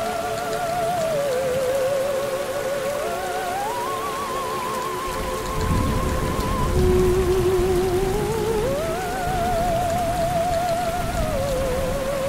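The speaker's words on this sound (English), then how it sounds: "the forest during the middle of a rainstorm" Steady rain falls through a forest in the middle of a rainstorm, a dense close hiss that fills the whole clip, with a wavering tonal melody running over it.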